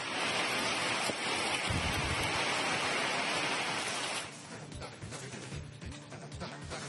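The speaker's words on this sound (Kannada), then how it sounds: "ಶಿವಮೊಗ್ಗದಲ್ಲಿ ಮಳೆಯಾಗಿದೆ." Heavy rain falls in Shivamogga, Karnataka, a dense continuous hiss that stays loud for several seconds before easing slightly, with faint rumbling underneath.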